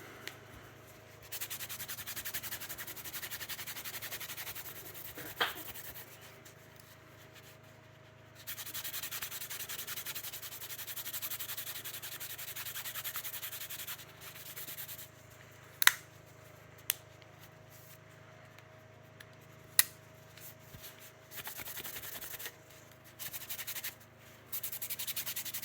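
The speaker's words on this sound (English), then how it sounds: "So let's give this one a buffing." A cloth buffs the conditioned handle of a pocket knife, producing steady close rubbing and swishing in long passes, broken by brief pauses and a few sharp clicks against a low background hum.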